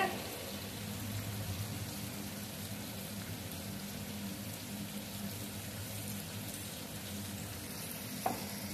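Food being mixed and stirred in a pan for dahi kadhi, a steady soft scraping and light sizzle running throughout, with a brief knock near the end.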